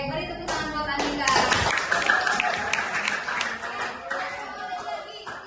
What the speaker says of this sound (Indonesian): beri tepuk tangan buat Andika.